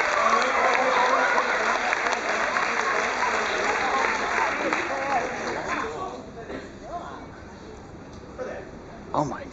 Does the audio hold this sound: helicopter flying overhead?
no